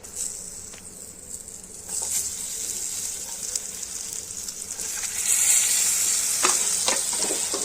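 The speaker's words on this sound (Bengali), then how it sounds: "পটল দিচ্ছি তেলেতে।" Pointed gourd pieces frying in hot oil, a continuous bright sizzle that swells louder partway through as the vegetables settle in the pan, with light stirring and no voices.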